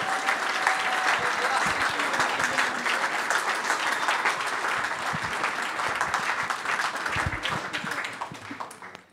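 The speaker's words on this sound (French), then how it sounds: "Je vous demande d'applaudir Antoine Marzalek." A large crowd at a political rally gives sustained, dense applause for a speaker, steady and loud before thinning slightly toward the end, with faint voices mixed in.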